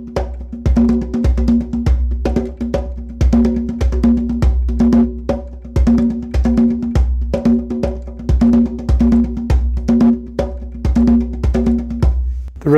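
Steady percussive drum rhythm played in an unusual 21, 21, 16 grouping, with sharp repeated hits over a ringing pitched tone, loud and close, continuing without pause and with no talking.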